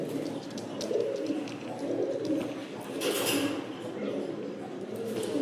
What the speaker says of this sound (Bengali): এটা হচ্ছে আলিওয়ালা 35-এর একটা নর কবুতর